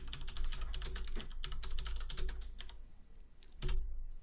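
Rapid, dense clatter of keys on a laptop computer keyboard as commands are typed, close and steady with brief pauses and a final firm keystroke, no voices.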